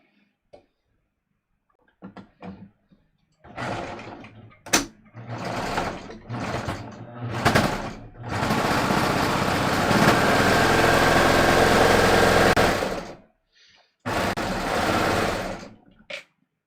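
A sewing machine stitches a top, starting with a few scattered taps and short runs, then settling into a long, steady close whir before stopping and running once more in a short burst.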